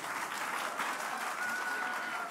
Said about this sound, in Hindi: जोरदार तालियां बजा लीजिए खुद के लिए